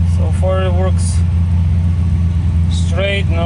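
A car with a check engine light and rough idle runs steadily at idle while warming up after a battery quick disconnect switch installation, a constant low rumble with someone talking over it.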